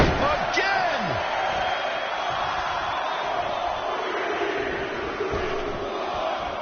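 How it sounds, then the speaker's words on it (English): Crowd noise in a wrestling match in the video game WWE 2K20, a loud continuous roar of arena spectators with a few impact thuds and whoops near the start and a commentator talking over it. "Listen to this crowd count the next one in"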